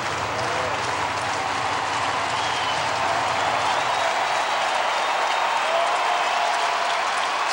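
A sellout crowd of 41,790 at a Milwaukee Brewers baseball game against the New York Mets applauds in a dense, sustained wash of clapping and cheering that stays level from start to finish.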